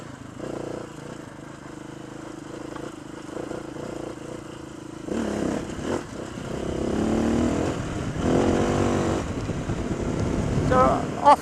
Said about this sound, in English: we're out for a ride today with my brother on his CBX or CB500X